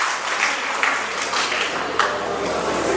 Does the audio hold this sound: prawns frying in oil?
no